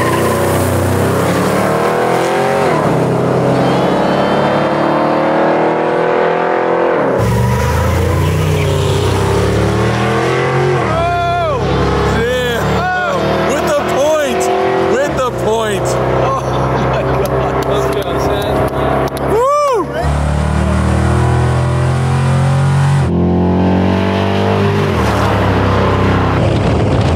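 A Porsche Cayman drag races a Hoonigan van. Engines rev and whine loudly through repeated rising and falling sweeps as the vehicles accelerate and pass, with people talking and cheering over the noise.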